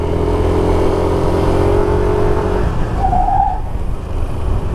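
A loud 2020 Yamaha NMAX scooter engine hums steadily up close, with a brief high squeal partway through as the front brake is applied.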